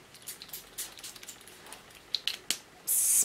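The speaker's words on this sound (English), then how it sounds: "spray on my face, hydrate me" A few faint clicks and taps, then one short burst of fine rosewater mist from a mini spray bottle, close and soft.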